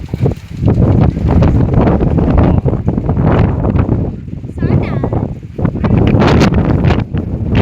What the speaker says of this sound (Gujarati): વાવાઝોડું હવે આવતું જાય છે હળવું હળવું